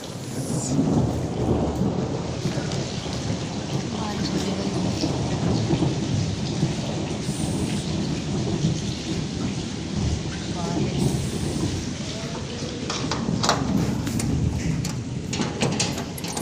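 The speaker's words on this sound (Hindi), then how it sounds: "बारिश हो रही है इधर" Heavy rain pours steadily while thunder rumbles low and continuously, a full storm heard up close for a long stretch.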